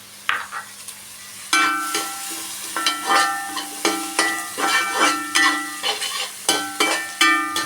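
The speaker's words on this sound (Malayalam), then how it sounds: "നമുക്ക് ക്യാപ്സിക്കം കൂടെ ചേർത്ത് കൊടുക്കാം." Capsicum stir-fried in a hot pan for kothu porotta: a steady sizzle under repeated rhythmic metallic scrapes and clanks of the utensil against the pan.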